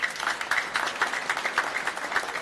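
A church congregation claps loudly during a homily at a 5 PM Mass, with dense, steady applause filling the whole moment and small surges of louder claps throughout.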